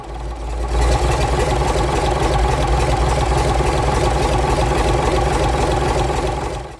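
A Gardner 6LXB diesel engine, freshly overhauled, cranks and catches, then settles into a loud, steady, throbbing run close by, holding a constant low rumble until it fades at the end.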